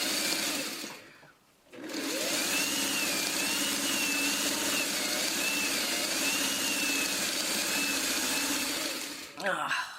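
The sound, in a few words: sewing machine stitching fabric onto a string basket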